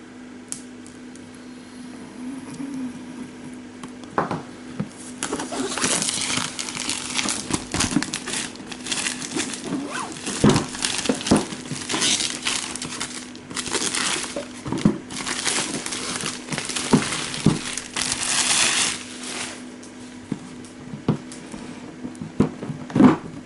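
Unboxing of the Rise of Dagon expansion for the Deep Madness board game: steady crinkling and crumpling of plastic wrap and cardboard handling, with sharp crackles and rustles throughout, close and fairly loud, no talking.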